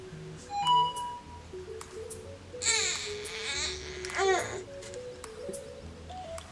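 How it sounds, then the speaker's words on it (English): Baby babbling and making cooing, squealing vocal sounds in the background of an indoor room, intermittent bursts of high, wavering baby voice over a quiet bed with faint electronic tones. "baby talking"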